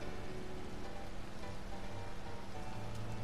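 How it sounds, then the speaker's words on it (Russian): Rain pours outside in the video game Red Dead Redemption 2, a dense, constant patter filling the whole stretch with no voices. "это на улице дождь идет"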